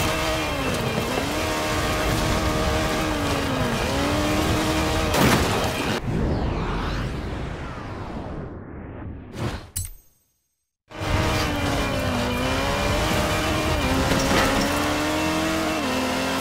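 A Ford RS200 with a 1.8 turbo Cosworth BDT engine and four-wheel drive races in Forza Horizon 4. The engine drones loudly and steadily with rising and falling revs and a few whooshing passes, then cuts to near silence before the roar returns.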